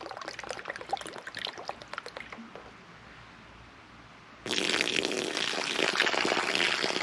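Water pours and trickles from an ostrich egg into a cup, quieting briefly before a louder, steady splashing stream resumes.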